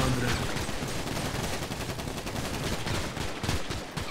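Rapid gunfire in a cartel-themed video game, a dense, loud continuous burst of many overlapping shots that fills the whole stretch without a break.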